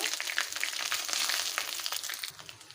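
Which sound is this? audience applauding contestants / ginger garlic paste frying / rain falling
ginger garlic paste frying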